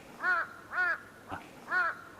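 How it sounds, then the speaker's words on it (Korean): Crows give three loud, evenly spaced caws with a fainter, shorter call between the last two, heard alone against quiet outdoor background. "까마귀들이 새까맣게 몰려왔구나"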